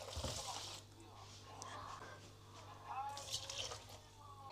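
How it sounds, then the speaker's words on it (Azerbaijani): Two glasses of boiling water poured over bulgur for kısır, a faint splashing pour close by with speech over it. "Üzərinə 2 stəkan da qaynamış suyumu əlavə edirəm."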